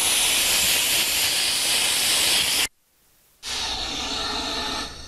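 Compressed air hisses steadily through the nozzle of a ToughTek S340e piston spray pump, a loud broadband rush that cuts off for under a second and then resumes just as strongly.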